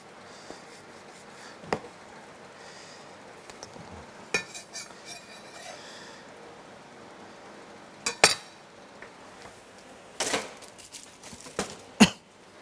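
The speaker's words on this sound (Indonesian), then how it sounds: "kita potong mangganya." A knife cuts mango on a plate, giving scattered sharp clicks and scrapes of blade against the plate, with a few louder knocks spaced irregularly over quiet background.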